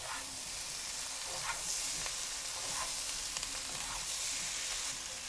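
Potatoes for vegan mustard potatoes fry over high heat in a pan, giving a steady, loud broadband sizzle throughout with a few faint scrapes, and no voices.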